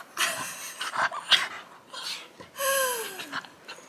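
Excited dog panting rapidly in short, breathy bursts, broken by a couple of high, drawn-out whimpers, close and fairly loud with no talking over it.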